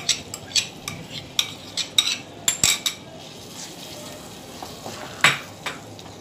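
A spoon scrapes and clinks around a pan as cashew paste and spices are stirred into a malai kofta gravy, irregular metallic taps over a soft background sizzle.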